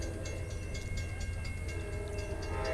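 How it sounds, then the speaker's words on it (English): Amtrak Auto Train with a P42 locomotive in the lead rolling past at Folkston, a steady close rumble with faint rhythmic wheel clatter and a sustained tonal hum. "We have P43 Auto Train."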